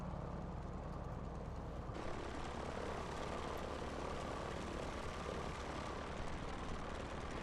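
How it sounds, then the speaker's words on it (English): A steady, droning piston engine of an F4F-4 carrier aircraft in the Microsoft Flight Simulator video game, heard continuously at low volume with a slight shift in tone partway through. "This plane is an American plane that was also carrier operation, the F4F4."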